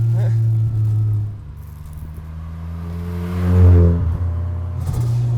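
A 400 hp Mazda FC RX-7 rotary engine hums low and steady, then rises in a short rev before settling back, heard from inside the car.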